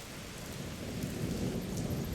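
A thunderstorm with heavy rain during a field trip stay at a hotel, a dense, continuous roar of rainfall with low rumbling thunder swelling underneath, loud and close with no voices.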